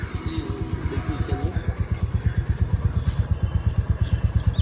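Two Honda motorcycles idle and pull away on an evening ride. Their engines chug with a fast, steady, close-up pulse that grows louder and more even as they move off, with no talking.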